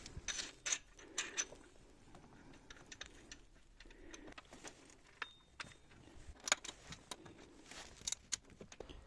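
Wrench clicks and metallic taps sound as the alternator belt tensioner bolt is tightened on a VW Passat B5, quiet and close, in short irregular bursts against a faint background.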